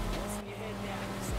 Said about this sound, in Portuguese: O carro do Ted tá chegando perto